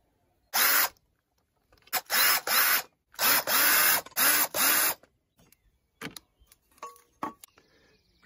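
Four 8mm nuts on the shield of a 2.0 TDCi diesel Ford S-Max are loosened with a power tool, heard as several short, close whirring bursts separated by pauses, then lighter clicks and rattles.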